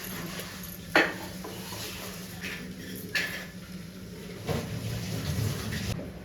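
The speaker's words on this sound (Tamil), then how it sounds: "அப்படியே இந்த வாட்டரை ஊற்றிட்டு ஒரு வாஷ் மட்டும் நம்ம பண்ணிவிட்டு அரைச்சி எடுத்துக்கலாம்" Soaked ragi getting a rinse as water is poured off in a kitchen, with sharp clinks of a metal vessel and splashing water over a low steady hum, no voices.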